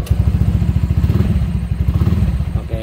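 A Honda Beat CBS 2020 motorcycle, fitted with a keyless system, idles loudly up close with a rapid, even chugging engine pulse, ending in a brief click.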